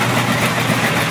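An electric motor drives an automatic storage-silo conveyor, giving a steady, loud running hum with a dense broadband rumble and no pauses throughout.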